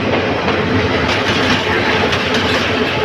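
Dhaka Mail, a mail train from Chittagong bound for Dhaka, rumbles through a junction with dense, steady rail noise and faint clickety-clack, loud and close, with no voices.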